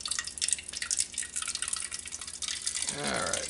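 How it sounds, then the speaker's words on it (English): Lamp oil is poured into a soda can, giving a faint, uneven trickle and patter of liquid that ends with a rising gurgle as the can fills. "I have some lamp oil here, and you're just going to pour it right into the can"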